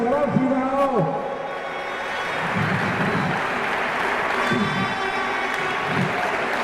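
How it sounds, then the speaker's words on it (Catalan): Applause from a crowd at a junior men's basketball championship final for the runners-up, a sustained clapping wash under a loud announcer's voice. "Aplaudiments."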